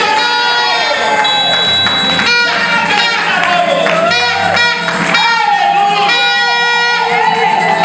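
Church congregation cheering and acclaiming with loud overlapping voices, shouts and ululating cries, a continuous dense roar of worship throughout.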